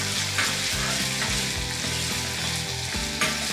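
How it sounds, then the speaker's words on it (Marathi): Finely chopped onion fries in hot oil with a dense, continuous sizzle and occasional stirring, heard close up over steady background music. "याच तेलामध्ये आता घालूयात बारीक चिरलेला कांदा। आणि कांदा मस्तपैकी सोनेरी रंगावर परतून घेऊयात।"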